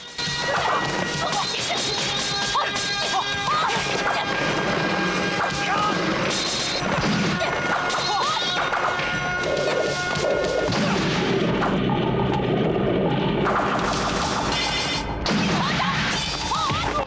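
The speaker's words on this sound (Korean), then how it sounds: "드디어 오늘의 주인공들이 검을 맞대봅니다." Swords clash again and again in a fight scene from a wuxia martial arts film. The hits are loud, metallic and rapid, set against a thick, constant bed of dramatic score and crashing effects.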